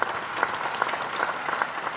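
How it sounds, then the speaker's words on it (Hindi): Audience applause at a Samsung Innovation Campus convocation ceremony, a steady bed of many hands clapping with a few sharper individual claps popping out, moderate in level and unbroken throughout. "आपकी तालियां कम पड़ रही हैं"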